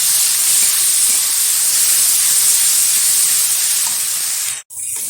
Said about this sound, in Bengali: এখানে আদা রসুন আর পেঁয়াজ দিয়ে দিচ্ছি। একটু নাড়াচাড়া করে নিচ্ছি।